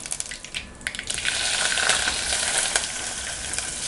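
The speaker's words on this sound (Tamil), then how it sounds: "ஒரு பெரிய வெங்காயம், ஒரு பச்சை மிளகாய், கொஞ்சமாக கருவேப்பிலை, இது கூட பெருங்காயத்தையும் நம்ம சேர்த்து தாளிச்சுக்கலாம்" Onion, green chili, curry leaves and asafoetida fry in sesame oil, starting with scattered pops and spoon clicks before swelling into a loud, steady sizzling hiss close by.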